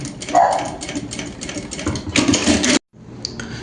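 A sewing machine runs close up, stitching an apron in a steady mechanical whir that speeds up near the end, stops abruptly, then briefly starts again.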